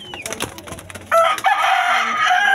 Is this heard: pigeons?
yes